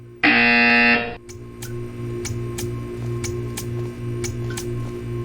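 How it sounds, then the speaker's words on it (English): In the Portal 2 video game, a loud electronic buzzer blares once for about a second, followed by a series of sharp, evenly spaced ticking clicks over a low mechanical hum. "You will hear a buzzer. When you hear the buzzer, stare at the art."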